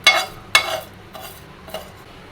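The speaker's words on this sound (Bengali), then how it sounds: "দারচিনি, তেজপাতা আর এলাচ। এখন এই মশলাটাকে আমরা ভেজে নেব।" Cinnamon, bay leaf and cardamom being dry-roasted in a pan for a raw mango pickle, heard as a few short scraping stirs with light sizzle, four distinct strokes fading over the span.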